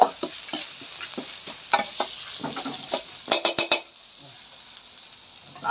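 Spice paste for an eel curry stir-fries in a pan, with quick rhythmic scrapes and clinks of a spatula over a low sizzle, then a brief pause near the end, close by and with no talking.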